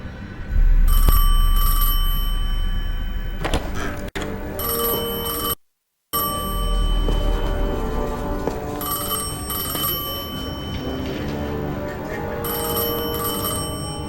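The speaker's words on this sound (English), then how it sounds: "I felt the ringing more than I heard it." A telephone rings in the video game Destiny 2, bright repeated trilling bursts in a steady on-off pattern, clear and close, with one brief dead-silent gap partway through.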